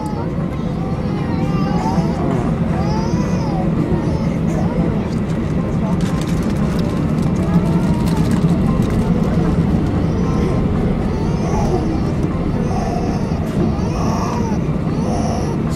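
A Middle East Airlines airliner landing at Frankfurt gives a steady, broad engine and cabin roar throughout, with passengers talking over it.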